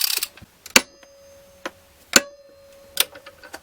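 A torque wrench tightens a rifle barrel nut during a .458 rifle assembly, giving a few sharp metallic ratchet clicks with short pauses between them, close and distinct over a quiet background.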